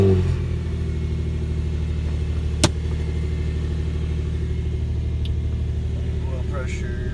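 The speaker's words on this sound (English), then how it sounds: "So this will be a cold start." Nissan 350Z with 370Z headers, test pipes and a Nismo exhaust cold-starting: a brief crank and catch, then a steady, deep, rumbling idle that stays loud and close throughout, with one sharp click partway through.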